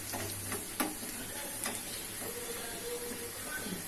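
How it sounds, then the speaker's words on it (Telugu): Chili peppers frying in a pan for a tomato dal curry, a soft steady sizzle with a few sharp clicks from stirring, fairly quiet and without speech. "ఇది బాగా ఫ్రై అవ్వాలండి. చూడండి ఫ్రై అయిపోయింది కదా."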